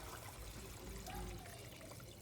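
Clean water pours and trickles into an aquarium filter onto its sponge, a steady close splashing stream that runs continuously without pause.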